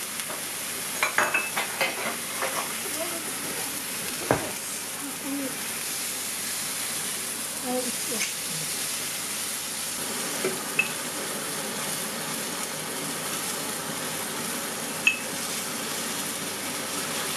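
Yaki onigiri, Japanese grilled rice balls, fry in a hot pan with a continuous close hiss and sizzle, broken by a few sharp knocks and scrapes as they are turned.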